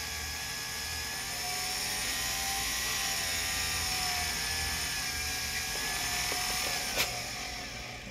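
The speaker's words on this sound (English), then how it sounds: "you have to turn your Dremel in the other direction to use these" A Dremel rotary tool runs steadily with a high whine while grinding a triple-shank jewelry pendant bail, a continuous close motor tone with a brief sharp scrape near the end.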